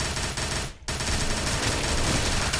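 Rapid bursts of automatic gunfire from an SKM rifle in the zombie shooter game SAS Zombie Assault 3, loud and continuous with one brief pause, heard alone with no talking.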